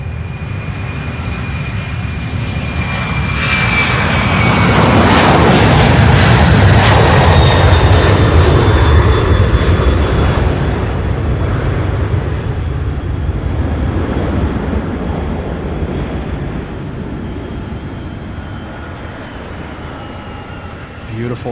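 Jet airliners taking off at night from an airport, a loud sustained engine roar that builds to a peak mid-clip and slowly fades as the aircraft climbs away, with a person talking faintly over it.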